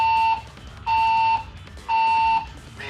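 A building fire alarm sounds loud and close, repeating a harsh electronic tone in three long bursts separated by short pauses.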